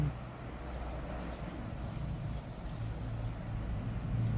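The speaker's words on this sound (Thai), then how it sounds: "เสียงน้ำไหลแรงมากเลย" A steady, rumbling rush of floodwater surges along the Mun River in Ubon Ratchathani, a constant low roar heard close up and uninterrupted, with no talking over it.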